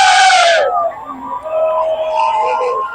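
A large crowd roars and cheers in celebration of India's T20 World Cup win, opening with a loud high shout that fades into a sustained, distant wash of many voices.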